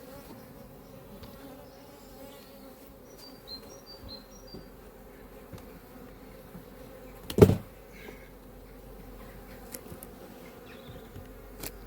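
Honeybees hum steadily around an opened hive during an apiary inspection with triple supers, a low continuous drone with a brief louder knock or thump partway through and no talk.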